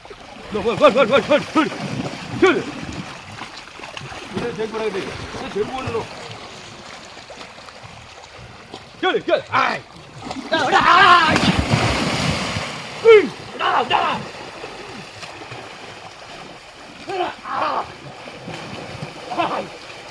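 Water splashes in bursts as a cow is bathed in a canal, several separate sloshing surges across the stretch, with people talking between and over them outdoors.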